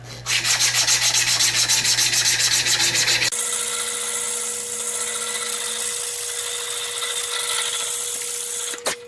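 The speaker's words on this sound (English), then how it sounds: "I'll come back over it with a 180 grit sandpaper and get it just a little bit smoother" A wooden 7-inch minnow lure is smoothed with 180 grit sandpaper, a steady close rubbing scratch that shifts tone partway through and runs continuously with no talk.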